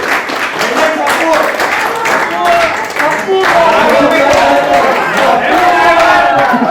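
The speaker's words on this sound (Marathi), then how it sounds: "जोरदार टाळ्या झाल्या पाहिजे" Loud, sustained applause from a crowd at a World Nurses Day gathering, dense clapping that swells after a brief dip, with voices and cheers mixed in.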